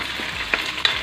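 Fried milkfish (bangus) and shrimp paste (bagoong alamang) dropped into a hot pan with string beans, giving a soft steady sizzle with two brief louder bursts as pieces hit the oil.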